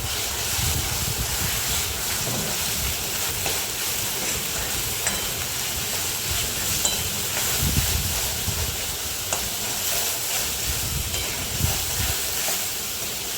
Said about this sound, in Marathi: त्याला मस्त परतून घ्यायचं आहे कांदा आणि टोमॅटो सोबत